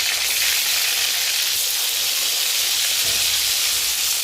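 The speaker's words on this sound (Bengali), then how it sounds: "তেলটা গরম হয়ে গেছে, বেগুনটা ভেজে নেব।" Eggplant fries in hot oil with a dense, loud, unbroken hiss that stays steady throughout, close to the pan.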